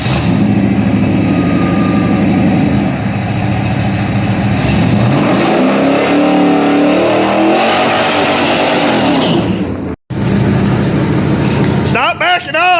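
A Chevrolet Camaro engine runs loud and steady throughout, rising and falling as it revs and drives, with a brief cutout near the end and people talking over it.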